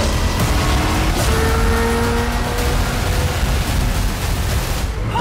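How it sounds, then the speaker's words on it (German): Loud, steady roar of a V8 engine in a lightweight carbon fiber supercar, heard from inside during a ride, with continuous engine and road noise and no pauses. "V8 engine."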